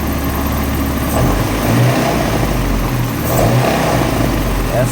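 A running Honda Civic engine with an H2B swap, loud and close, makes an abnormal mechanical noise from around the valve cover, with a steady drone and a couple of slight rises in revs.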